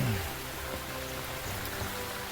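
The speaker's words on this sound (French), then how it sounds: "Et là, la pluie est arrivée, comme prévu." Steady rain hisses evenly throughout near Piton Marmite on Réunion, a soft continuous wash of falling drops with no voices.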